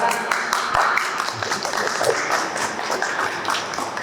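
An audience at a live lecture in an entertainment venue gives dense, continuous applause to welcome a guest, many hands clapping at once in a steady wash of sound, with some talk mixed in.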